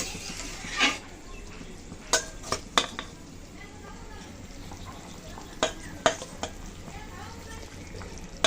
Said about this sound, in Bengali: আর এখন এই ভেজে রাখা মাছগুলো সব দিয়ে দিচ্ছি আমি।